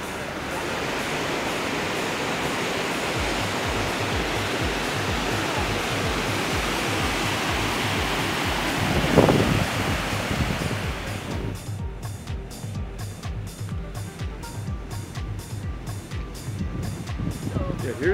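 Steady rushing roar of river rapids along Old Fall River Road in Rocky Mountain National Park, continuous and fairly close, later joined by rhythmic clicking or ticking; a voice talks briefly.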